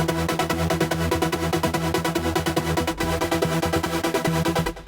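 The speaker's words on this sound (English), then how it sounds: "Then we have some trance gate sounds like this one." Modern trance synth patch chopped by a rhythmic trance gate into fast, even sixteenth-note pulses, loud and continuous over steady sustained chords, with a sweep near the end.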